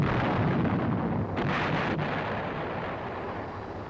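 An M551 Sheridan armored reconnaissance assault vehicle fires its main gun, a single heavy blast that rolls into a long, loud, rumbling roar and slowly fades, with no voices.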